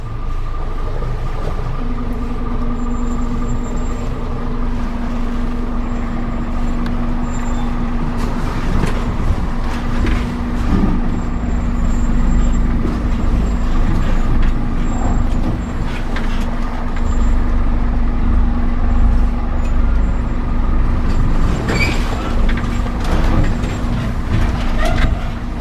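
A Scania truck creeps down an extremely steep demonstration slope, its engine a loud continuous low rumble with a steady hum and occasional hissing and creaking from the chassis, heard from inside the cab without talk.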